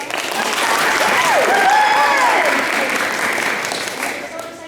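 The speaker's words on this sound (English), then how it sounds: "Can we give him a round of applause?" Applause fills the room as an evening school audience welcomes a kindergarten teacher's guest, dense steady clapping with some cheering and voices mixed in, holding loud for several seconds before easing slightly.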